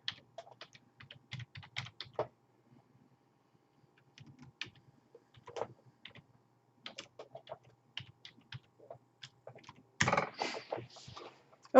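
Someone types a username and password on a computer keyboard, with quiet clusters of close key taps separated by pauses and a louder burst of keystrokes near the end.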